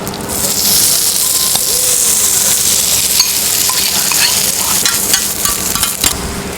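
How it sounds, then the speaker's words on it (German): Okonomiyaki batter sizzles loudly and steadily on a hot griddle plate, a dense close-up hiss with occasional scraping ticks of a spatula and no talking. "ich möchte das jetzt genau hören, wie schön das auf der Platte zischt"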